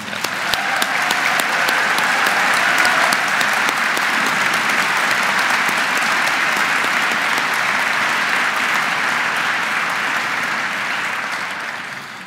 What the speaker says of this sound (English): Could you have a round of applause for that?